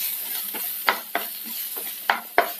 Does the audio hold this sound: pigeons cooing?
no